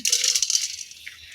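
Dry red lentils pour into a cooking pot in a brief rattling rush that thins out after about half a second, leaving a faint trickle, close and alone.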